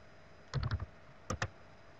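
Quick taps on an iPhone touchscreen keyboard while entering a Google search, a short burst of three clicks followed by two more after a pause, quiet and close with no voices.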